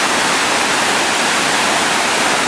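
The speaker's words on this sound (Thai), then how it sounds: "เนี่ยเป็นน้ำตกหน้าฝน" A rain-swollen waterfall in the rainy season pours with heavy, fast flow, a steady, loud, unbroken roar of rushing water with no pauses.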